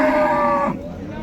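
A cow moos once, loud and close, for under a second at a busy livestock market in Chiroqchi's Qalqama, then a low crowd murmur continues.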